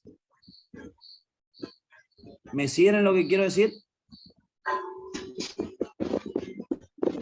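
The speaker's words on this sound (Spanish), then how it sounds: "¿Se escucha mucho el grillo de fondo?" A cricket chirps in the background, giving faint, regular, short high chirps under a lecturer's speech.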